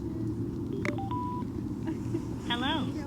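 A Sena RT-1 intercom powers on with a short series of electronic beeps and a rising chirp tone, heard clearly over a constant low rumble.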